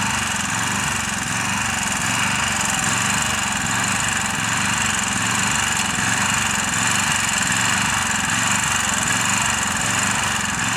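A garden tiller engine runs steadily and loudly throughout, a continuous close mechanical drone with no pauses or voices, in a backyard garden being tilled into rows.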